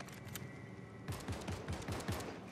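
Gunfire in the battle royale game Fortnite: a run of five or six evenly spaced shots after a quiet opening second, moderately distant and fairly faint.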